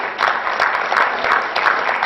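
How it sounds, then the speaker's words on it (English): A school crowd applauds a sophomore team at a West Branch event: a loud, dense, continuous wash of clapping that holds steady for about two seconds. "Nice round of applause for our sophomore"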